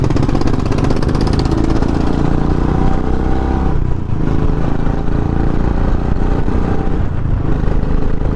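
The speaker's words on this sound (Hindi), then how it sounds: "अभी ना थोड़ी आवाज़ अजीब सी आ रही है, मतलब अभी यूज़ टू इट नहीं हुआ है ना इंजन इस एग्जॉस्ट के लिए" A Royal Enfield Bullet 350 single-cylinder engine fitted with a changed aftermarket exhaust runs steadily up close, a loud continuous low thumping drone with mechanical clatter, with no talking.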